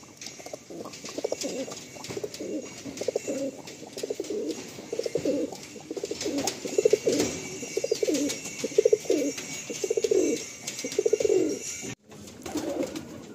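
Pigeons in a Madrasi pigeon loft coo in repeated, rounded, throaty phrases, close and fairly loud. The calls come in steady bursts with short pauses, broken by a brief silence near the end.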